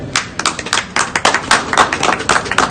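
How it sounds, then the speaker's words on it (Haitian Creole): A crowd applauding with a thunder of clapping at a gathering, dense, lively rapid hand claps close by with no talking. "tonnerre d'applaudissements"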